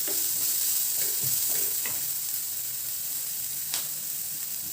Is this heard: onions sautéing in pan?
yes